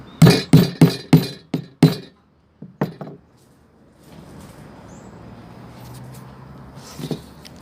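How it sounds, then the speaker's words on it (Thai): A rapid run of sharp, ringing hammer blows driving a house post into the ground, then a couple of separate strikes before the sound settles into quiet background noise. "ให้เราตอก เสาไปเลยนะครับ"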